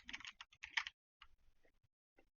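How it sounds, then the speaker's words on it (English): Computer keyboard typing during a live online chess session, two quick bursts of keystrokes close up followed by sparse single clicks, no voices. "Make sure I'm typing in the right thing."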